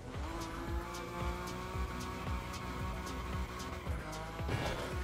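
Tires squealing as a heavy car drifts in The Crew Motorfest, steady engine drone beneath repeated short screeching bursts and skids, loud and continuous with a rougher slide near the end.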